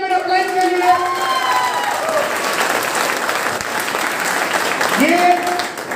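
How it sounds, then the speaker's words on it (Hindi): Loud applause from a seminar audience in Sikar, a thick sustained roar of clapping with some cheering, while a voice or tonal sounds rise briefly over it at the start and again near the end. "एक बार जोरदार ताली मेरे अपलाइन के लिए।"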